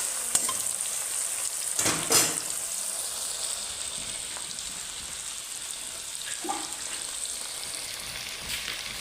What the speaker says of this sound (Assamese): এতিয়া মাংসখিনি সিজিবৰ বাবে ইয়াত পানী এড কৰিম